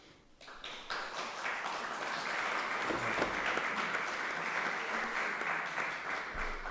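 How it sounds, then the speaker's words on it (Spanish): An audience at a book presentation in Ourense breaks into applause, starting softly and swelling into steady, sustained clapping that continues to the end at moderate level. "pido un aplauso para ellos"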